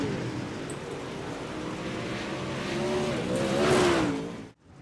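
MSDS Modified race cars running on the Pevely speedway, a steady loud engine roar with pitch-shifting whines as cars pass, building to a close pass before cutting off abruptly.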